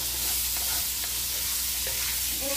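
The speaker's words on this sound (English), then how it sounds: "Saute our celery and carrots." Celery and carrots sauteing in leftover kielbasa sausage grease for a cabbage potato soup, giving a steady soft sizzle with a few faint stirring scrapes and no talking.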